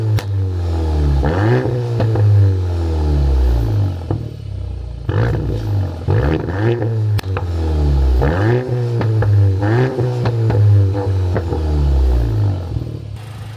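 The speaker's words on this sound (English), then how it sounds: "now let's hear that exhaust" The exhaust of a lowered Mk8 Volkswagen Golf GTI revs repeatedly, each burst rising sharply to a loud roar then dropping back to a deep, rumbling idle.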